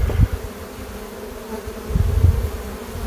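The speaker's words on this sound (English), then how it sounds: "Quite a bit of bees down here." Honey bees from a swarm in a beekeeping hive box, a steady close buzzing drone with a few louder passes near the start and end.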